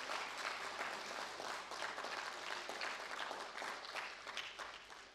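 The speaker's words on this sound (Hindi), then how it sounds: "एक बार फिर से भारत की सुपुत्री को तालियों से स्वागत किया जाए" Continuous crowd applause greets Commonwealth Games gold medallist Nayanmoni Saikia at an International Women's Day event, steady and fairly distant, with no talk over it.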